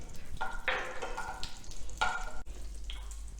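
Ghee heats in a pan with a steady, close sizzle and crackle, with a few sharper pops bursting through the continuous frying hiss.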